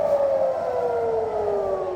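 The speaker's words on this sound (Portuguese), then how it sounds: "As sirenes de alerta foram ativadas em comunidades do norte de Israel." Rocket alert siren sounding in a northern Israel community, one loud steady tone sliding slowly downward in pitch and held without a break.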